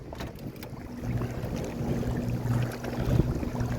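Big sea waves near a rocky shore off Çeşme, a continuous rumbling wash of water with wind buffeting the microphone, heard from aboard a small fishing boat with an engine droning underneath.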